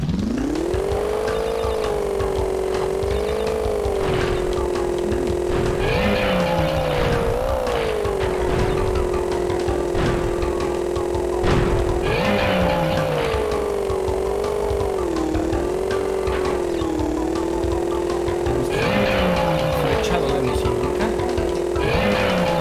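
A jet ski engine in the water racing level of the PlayStation game Crash Bandicoot 3: Warped, a loud continuous buzzing whine that rises and falls in pitch as it revs, with game sounds and occasional talk over it.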